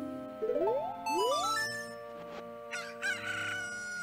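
A cucco chicken crowing in the N64 game Zelda Ocarina of Time, two rising cock-a-doodle-doo calls in quick succession, followed by chiming game jingles and effects, loud and close with no talk.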